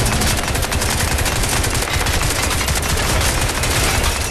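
Sustained rapid automatic gunfire from the video game Crysis 2, dense and continuous bursts at close range, loud throughout with no talk over it.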